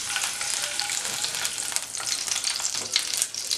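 Cashews and almonds frying in a pan, a steady close sizzle with light crackle and soft scraping of the nuts being moved around.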